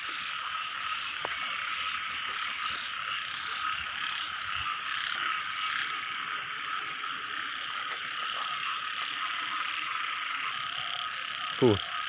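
Frogs croak steadily on a rainy night in rural Thailand, a dense, continuous chorus that sits in the mid range and carries on throughout, with no talk over it.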